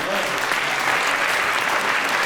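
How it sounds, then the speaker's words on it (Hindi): An audience at a Hindi comedy poetry show claps loudly and steadily, a dense even wash of hands beating together throughout with no pause. "जिन लोगों ने भी तालियां बजाई"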